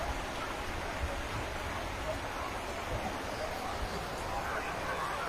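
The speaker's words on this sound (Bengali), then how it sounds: "দেখতে পাচ্ছেন যে প্রচন্ড বৃষ্টি হচ্ছে।" Heavy rain with hail pouring down in Sylhet, a dense, steady hiss of downpour holding level throughout without pause.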